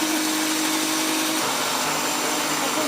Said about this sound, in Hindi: तो चलें इसको ग्राइंड करते हैं।